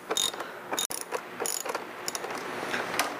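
Ratcheting clicks and metallic mechanism sounds from a combination wrench loosening a nut and bolt while fitting Givi luggage to a Kawasaki ZX-14 motorcycle, close and fairly steady, with one brief dropout and no talking.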